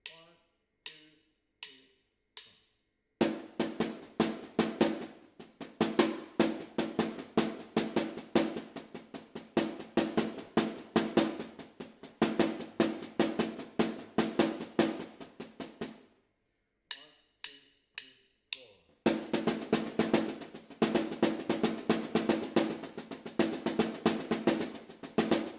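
A drum kit plays a ska du sticking pattern in time, starting with a few sparse strokes before a dense, driving run of rapid hits, then a short pause and another sparse lead-in into a second fast run.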